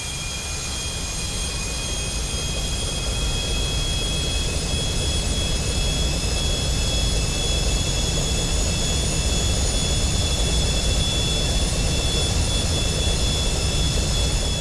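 Twin jet engines of a Carenado Citation CJ2 business jet in the Prepar3D flight simulator run in a steady, loud, unbroken roar with a high whine, holding constant throughout with no talk.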